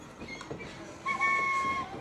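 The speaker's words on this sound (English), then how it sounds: "Here comes the train." A little park train rolls past in a forest park with a low rumble, then gives a short, clear two-tone toot of its horn that lingers for under a second.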